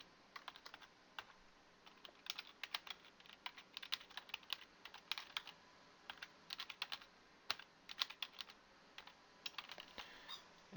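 Typing on a computer keyboard, a steady run of quick, light key clicks in irregular bursts, close and faint, with no voices.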